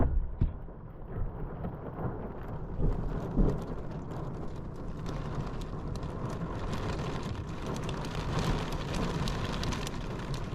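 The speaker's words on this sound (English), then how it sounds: "Well, now we're getting hail." A hailstorm with heavy rain and thunder, pelting steadily and densely close by, with a few louder rumbling swells and no talking.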